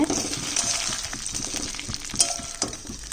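Singi fish (stinging catfish) frying in hot oil, a steady close crackling sizzle with scattered sharper pops and a few stirring scrapes throughout.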